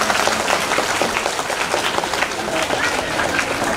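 Schoolchildren clapping together at a government school event, a dense, continuous patter of many hands at close range with some voices mixed in.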